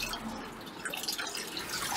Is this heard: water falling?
yes